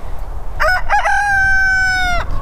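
A backyard chicken crows loudly and close, a few choppy opening notes then one long sustained drawn-out call lasting over a second, over a steady outdoor background rumble with no talk.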